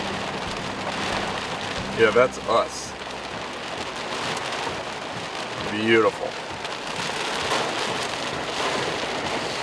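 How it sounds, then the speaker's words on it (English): Heavy monsoon rain pours steadily on the way to a ranch, a dense, constant hiss that fills the whole stretch, with a voice speaking briefly over it twice. "We've got a monsoon coming."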